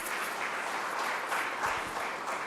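Applause from an audience at an evening church men's event, a brief, steady wash of clapping at moderate level with no speech over it.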